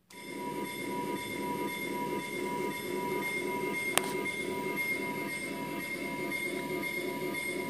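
A tiny Z-scale model train runs steadily on a coffee-table layout with a continuous whirring rumble and a faint high squeal, broken once by a brief sharp click.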